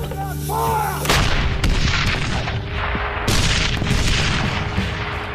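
Artillery guns fire in the Battle of Kapyong, heavy booming blasts landing one after another over a constant rumble of battle. The shelling runs loud and close through the whole stretch, with no voices.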